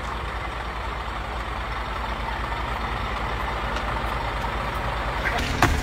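A Scania R450 truck's engine rumbles steadily at close range, a dense, even drone throughout with no break, swelling slightly near the end.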